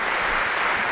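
Audience applause at a live event in Italy, a dense steady wash of many hands clapping, loud and close, filling the whole moment without pause.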